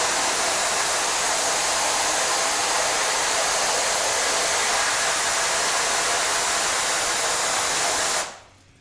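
Water hose spraying a screen-printing screen to wash out emulsion, a loud, steady hiss of spray that runs unbroken for about eight seconds before cutting off abruptly.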